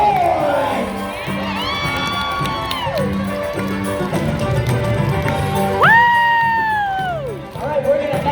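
A crowd of children and adults cheers and whoops for boys at a competition, a loud continuous roar with high shrieks rising and falling, close by.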